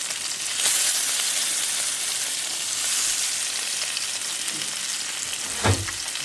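Fish frying in hot oil gives a continuous loud sizzle up close, with a brief clatter or stir near the end and no speech.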